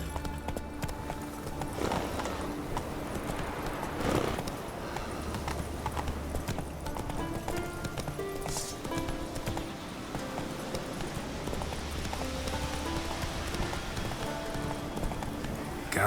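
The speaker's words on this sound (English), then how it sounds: "Whoa there, Roach" Galloping horse hooves in The Witcher 3 video game, a steady quick clip-clop of the mount running on and on, fairly close and loud, with game ambience and music underneath and a brief snort or whinny.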